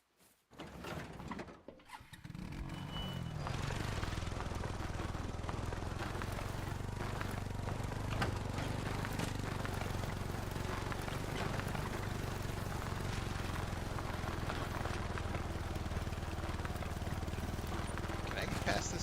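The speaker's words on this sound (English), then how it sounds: "I take the ATV." An ATV engine in the hunting game Call of the Wild cranks and catches, then holds a steady, close, low motor drone that runs without a break for many seconds.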